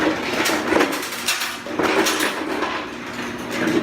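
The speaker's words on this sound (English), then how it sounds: "try to get these screws out." Metal screws being worked loose from the creaky plastic case of a Yamaha PSR-22 keyboard with a non-magnetic screwdriver, giving repeated close scraping, clicking and rattling handling noises at a steady, moderately loud level.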